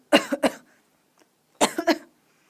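Two separate bursts of coughing, each a quick double or triple cough, close and fairly loud with a pause between them.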